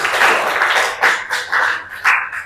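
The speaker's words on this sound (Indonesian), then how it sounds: "Oke, tepuk tangan." A classroom of students applauds together, a loud, close burst of continuous clapping that swells in several waves before easing off.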